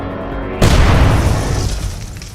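A machine gun blows up in the video game UnMetal: a sudden loud, close boom after a brief quieter lead-in, rolling into a heavy rumbling blast that slowly fades.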